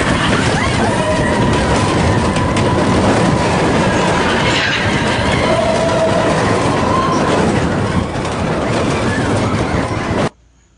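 Loud, continuous rattling of the Big Thunder Mountain Railroad mine train roller coaster on its track, wheels clattering and occasionally squealing, cutting off abruptly at the end.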